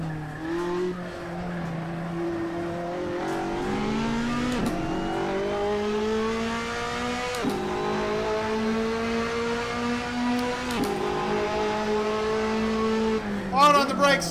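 A race car in Assetto Corsa brakes hard, its engine pitch stepping down through downshifts while the tires squeal, and the engine hums on steadily before a burst of tire noise at the end.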